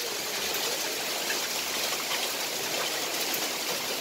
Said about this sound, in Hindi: और ये देखिए बारिश कितनी तेज़ हो गई है।